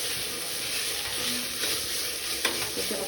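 Tomatoes and green chillies frying in a pan for paneer biryani, producing a steady close sizzle with a few soft stirring scrapes and no talking.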